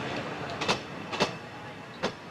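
A train runs along the rails in a film scene, with a steady rolling rumble broken by a few sharp clacks and knocks, fairly loud and close, with no clear talking.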